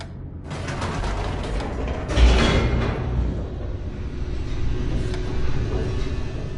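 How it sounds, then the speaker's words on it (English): A descending elevator in the video game The Stanley Parable gives a steady mechanical rumble with gear-like creaks and rattles and a heavier clunk partway through, running continuously without speech. "The elevator raced downward, plummeting towards an unknown fate."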